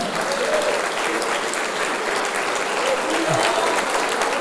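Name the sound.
applause in church service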